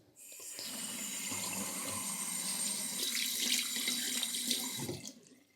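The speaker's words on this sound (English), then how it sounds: "Let's turn on the water." Bathroom tap turned on in a countryside home, water gushing steadily into the sink for several seconds, close and clear, then cut off as the flow stops.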